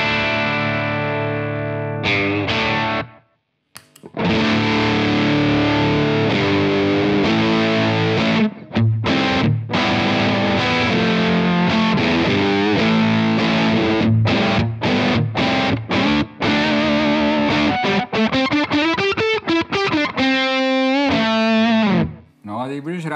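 An electric guitar plays through a Czech Tesla effects unit with distortion and a tone control, giving a loud, sustained, buzzing tone with chords, short breaks, and sweeping phased notes near the end.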